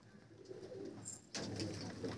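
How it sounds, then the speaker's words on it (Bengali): Many Andhra pigeons housed in a loft give low, rolling coos, faint at first before a fuller, nearer chorus of cooing swells in and carries on. "পায়রা অনেক পায়রা আছে দাদার কাছে।"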